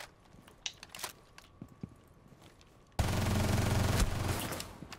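Gunfire in Rainbow Six Siege: scattered faint shots and clicks at first, then a sudden loud, sustained burst of automatic fire lasting about two seconds before tapering off.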